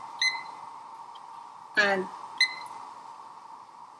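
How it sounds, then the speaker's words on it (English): A kitchen timer gives short electronic beeps while being set during stovetop cooking of brown sugar tapioca pearls: three brief tones spread over a few seconds, over a steady hum, with a word of speech nearby. "So I'm going to set the timer for about 30 minutes"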